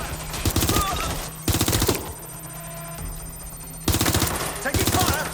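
Bursts of rapid automatic gunfire in the video game Watch Dogs: Legion, with loud clattering volleys at the start and end around a quieter stretch of tonal game sound and music.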